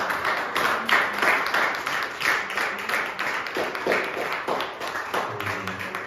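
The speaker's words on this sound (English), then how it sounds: "Clap your hands and praise God." A church congregation at a Sunday worship service claps hands together, a dense steady patter of many hands filling the room with faint voices mixed underneath.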